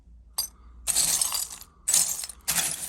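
Vintage rolled gold jewellery pieces, such as cufflinks, crosses and lockets, clink and rattle together in a few short, bright bursts separated by brief pauses, close and fairly quiet.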